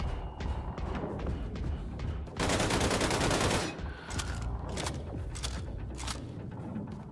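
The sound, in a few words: gunfire in Wolfenstein 2 video game, shooting enemies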